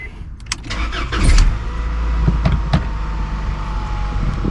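A 2000 Honda Accord engine cranks briefly and fires up, then settles into a steady idle, heard close up inside the car with no talking.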